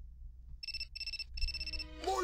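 Cell phone in the video game Shadow of Destiny ringing: three short, bright electronic ring bursts in a quiet room, followed by a quick rising tone and a voice at the end.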